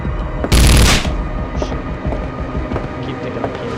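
A short, loud burst of SMG fire in a horror video game, a dense rapid rattle lasting about half a second before fading into a low background rumble.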